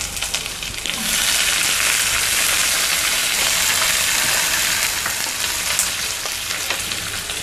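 Chopped onion and ginger fry in a pan for aval upma, a dense, steady sizzle that jumps louder after the first second and keeps crackling close by with no voices.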